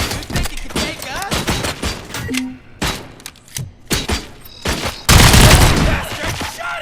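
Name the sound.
gunfire in the video game RoboCop: Rogue City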